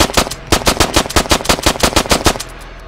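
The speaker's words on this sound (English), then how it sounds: "shoot his tires hard" Rapid automatic gunfire from a video game rattles out in a fast, evenly spaced burst of about fifteen loud, close shots aimed at a car's tires, ending abruptly.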